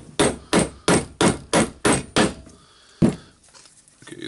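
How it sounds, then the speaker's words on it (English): A hammer strikes a Makita BDF456/DDF456 drill's chuck gear assembly into place during a wobble repair, eight sharp, close metallic blows in a steady rhythm, then a pause and one final hit. "Now we can hammer the assy."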